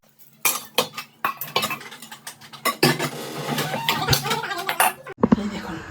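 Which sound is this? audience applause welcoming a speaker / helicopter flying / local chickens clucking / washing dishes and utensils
washing dishes and utensils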